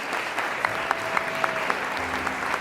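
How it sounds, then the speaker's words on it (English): A roomful of people clap together in steady sustained applause, an even wash of many hands with a few sharper claps standing out. "You hear the clapping sound, followed immediately by the sound of like clapping coming from upstairs."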